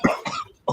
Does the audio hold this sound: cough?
yes